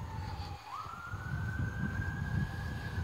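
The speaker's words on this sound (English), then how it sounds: "you hear a siren in the background." A siren wails steadily in the distance near a cemetery in Asheville, North Carolina, rising in pitch and then holding a long tone over low traffic rumble.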